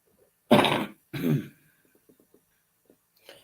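Two short, harsh coughs close by, one after the other, followed by faint clicks and quiet breathing.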